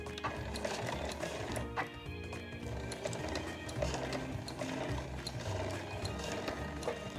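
Sewing machine fitted with a zipper foot and a size 14 needle, stitching in a zipper at 3.0 stitch length, a steady, rapid mechanical whir and clatter running continuously at close range without talk.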